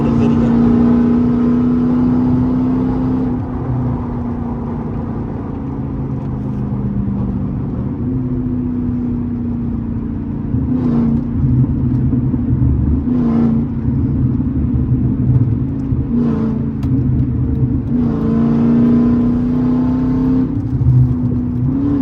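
A Dodge Challenger SRT8 392 V8 rumbles loudly and steadily, its engine note swelling and dropping through several pulls, with short sharp revving bursts near the end.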